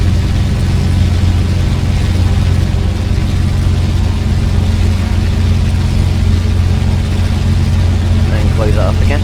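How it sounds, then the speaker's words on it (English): Avro Shackleton aircraft engines drone loudly and steadily in flight, a constant deep rumble heard from inside the aircraft with no break across the whole stretch. "Listen to the thunder of those engines."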